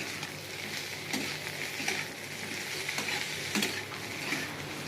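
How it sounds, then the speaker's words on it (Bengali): Chopped eggplant tossed with frying vegetables in a pan, a quieter continuous sizzle punctuated by a few distinct spatula scrapes and knocks as the pieces are stirred. "আমি কেটে রাখা বেগুনগুলো দিয়ে দেবো, একটু নেড়ে নেবো।"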